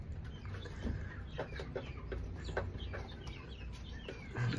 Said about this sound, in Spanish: estos son aves de raza criolla de 3 meses